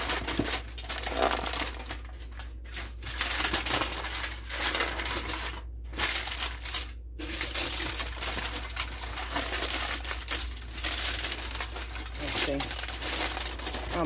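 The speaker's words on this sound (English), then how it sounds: "Now I'm actually just going to take the foil," Aluminum foil crinkles and crackles as it is folded into a pouch in a home kitchen, close and continuous with brief pauses, while a person talks over it.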